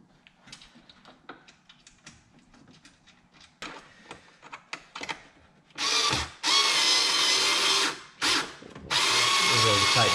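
A power tool tightens a 10 millimeter nut during installation of a carbon fiber ZR1 wing on a C7 Corvette. Quieter ratcheting and clicking comes first, then loud, close bursts of whirring with short gaps between them.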